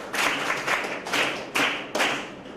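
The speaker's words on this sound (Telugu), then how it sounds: "20 అంటే గ్రేట్, క్లాప్స్ అండి." A group of participants at a business team-game workshop claps together, fairly near. The applause is steady and swells in several surges.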